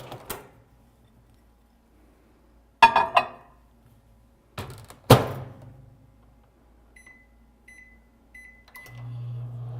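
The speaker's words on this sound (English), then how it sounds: "Toss it around a little and put it in the microwave." Sparse clicks and thumps, a microwave door shutting on seasoned chicken, then faint beeps and the steady low hum of the microwave starting up.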